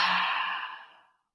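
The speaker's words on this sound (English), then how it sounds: "inhale through the nose. Exhale audibly out the mouth" A long audible exhale pushed out through the mouth during a guided breathing exercise, a soft breathy rush that holds steady and then trails off to silence after about a second.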